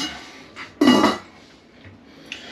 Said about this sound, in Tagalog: At ako ay naghanda ng 2 kaldero.